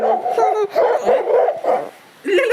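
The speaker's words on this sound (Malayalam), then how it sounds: "അത് ചെറിയ നായ്ക്കുട്ടിയാണ്." A small puppy barks and yips in quick, uneven bursts close by, with short gaps between them and a fresh yap at the end.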